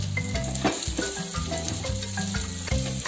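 Green chillies and curry leaves sizzle and crackle steadily in hot oil for tempering, a dense, close frying hiss with small pops throughout.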